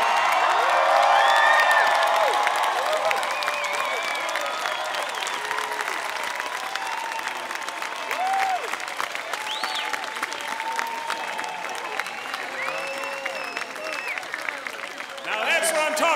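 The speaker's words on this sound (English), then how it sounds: "give the loudest cheer for your parents, your faculty, and everybody who got you here today" University of Virginia graduates cheer and applaud at their 2015 commencement, a loud crowd roar with clapping, whoops and shouts that swells early and then slowly fades.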